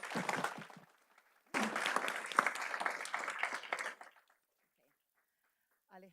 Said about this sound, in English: So, could we clap for their parents,